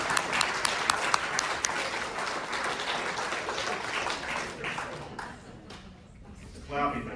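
Scattered clapping at a school district board meeting, a few hands tapping briefly amid room chatter before fading out, with people talking nearby.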